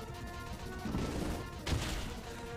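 Ancient Power attack in Pokémon Omega Ruby: a sustained rumbling, crashing barrage over game music, swelling and then hitting a second sharp impact burst.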